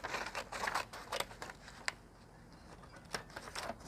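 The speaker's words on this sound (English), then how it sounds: "I've got a piece of paper over here to test this. Scissors on. Scissors test." Scissors on a Swiss Eagle multi tool cut a piece of paper, giving a series of close, crisp snips in quick bursts with brief pauses between them, heard alone.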